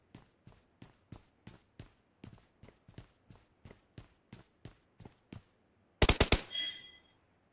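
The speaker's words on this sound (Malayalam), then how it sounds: "ഇത് വാർണിംഗ് ഫയർ" Warning gunfire in the PUBG video game on the Sanhok map: a steady run of sharp single shots, about three per second, then a sudden loud close burst with a ringing tail.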